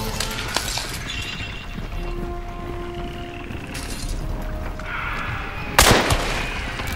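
Gunshots in the video game Hunt: Showdown, a few sharp cracks at moderate distance over a steady ambient game background, with one louder blast near the end.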